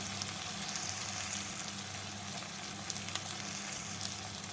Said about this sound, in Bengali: টমেটোগুলোকে পেঁয়াজের সাথে ভেজে নিয়ে